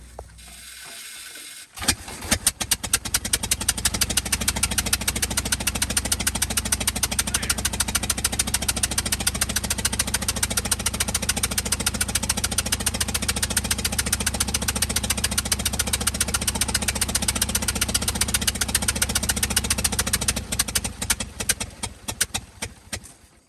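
A 1925 Ford Model T express truck engine cranks and catches, then runs with a loud, rapid, even mechanical clatter before stumbling and fading near the end.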